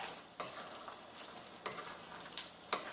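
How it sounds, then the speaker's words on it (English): Chinese-style tomato and egg scramble is stir-fried, a faint steady sizzle with a few distinct spatula strokes against the pan. "And then we're just going to stir fry it all up together."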